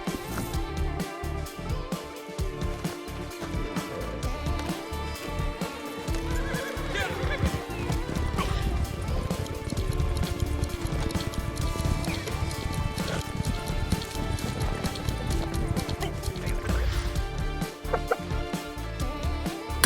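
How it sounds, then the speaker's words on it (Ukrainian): A horse in the Red Dead Online video game whinnies and gallops, with hoofbeats and neighs running steadily through a dense, loud game soundscape for the whole stretch. "Добре, тепер бери коня і їдь у табір."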